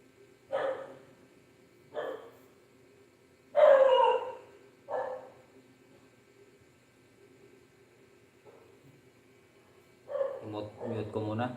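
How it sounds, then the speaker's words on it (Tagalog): A dog barks at home during an evening cooking livestream, giving several loud, separate woofs spaced a second or two apart, then a person talks briefly nearby. "Mute ko muna. Tumataol yung aso."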